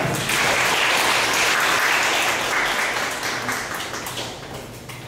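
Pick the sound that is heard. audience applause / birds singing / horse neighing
audience applause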